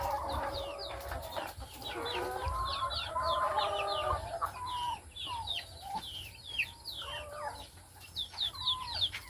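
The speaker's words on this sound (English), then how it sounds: "Get out of here, chicken. It's not your spot." Chickens, including Rhode Island Reds, cluck and chatter on a farm in a busy overlapping series of short calls, some near and some farther off, with no speech.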